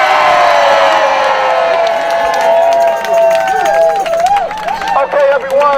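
A loud protest rally crowd cheers, screams and whoops continuously, a dense roar of many voices that gradually breaks into scattered shouts and yells.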